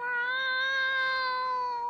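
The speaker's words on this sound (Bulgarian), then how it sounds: "О, не! Това е котенце!" A kitten meowing in one long, steady, drawn-out cry, close and clear, with no talk over it.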